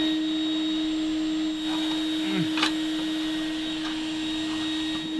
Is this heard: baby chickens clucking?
no